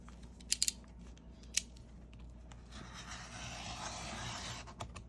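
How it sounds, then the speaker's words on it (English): A paper trimmer slices through Amazon packaging for a journal cover, giving a few sharp clicks followed by a soft, steady rasping cut, quiet and close. "And then just take your trimmer"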